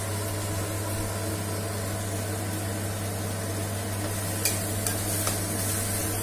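Steady, continuous sizzling of oil and spices frying in a hot pan for eggplant and drumstick thokku, with a few faint scraping clicks near the end and no talking.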